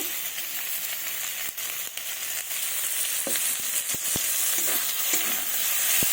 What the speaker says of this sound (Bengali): এবার কষিয়ে নেব অল্প একটু সরিষার তেল দেব